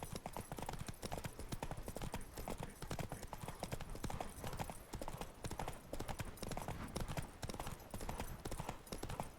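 A horse gallops at full speed in The Witcher 3: Wild Hunt, hooves pounding in a fast, unbroken clip-clop rhythm close by, with brief hints of whinnying amid the drumming.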